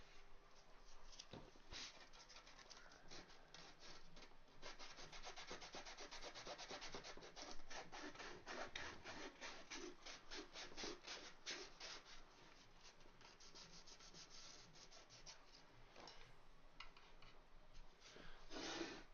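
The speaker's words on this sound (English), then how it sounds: "I'm just taking sandpaper" Sandpaper worked by hand over a 3D-printed part, a steady dry scratchy rubbing in repeated back-and-forth strokes, close and fairly quiet, with no talking.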